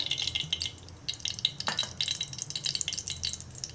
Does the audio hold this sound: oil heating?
yes